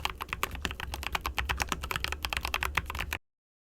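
Rapid typing on a Corsair K65 Plus 75% gaming keyboard, dense close clacks in an uneven stream for about three seconds before stopping abruptly, with no speech.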